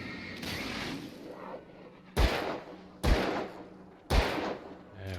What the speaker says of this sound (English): I wonder if I can shoot the barrels.